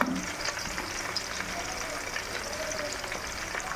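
Ginger-garlic paste frying in oil for a Nellore-style fish curry, a steady moderate sizzle close by with faint stirring, no talk.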